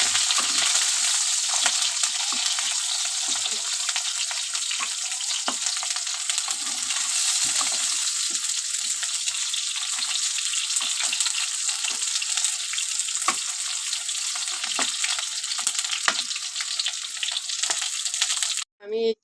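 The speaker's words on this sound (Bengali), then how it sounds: "এখন বেগুনটা ভেজে নেব" Eggplant frying in hot oil in a pan for shukto produces a loud, continuous, close hissing sizzle with small crackles and pops throughout, ending abruptly.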